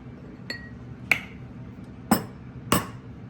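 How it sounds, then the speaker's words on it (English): Eggs cracked against a hard edge for lobster fried rice, four sharp close taps spaced across a quiet kitchen, the later ones louder. "I'm gonna crack my eggs."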